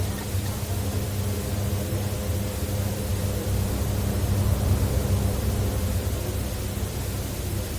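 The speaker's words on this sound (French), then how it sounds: "Avec le bruit blanc là, c'est sympa" Steady broadband white noise, a constant loud hiss spread evenly across the range, with no speech.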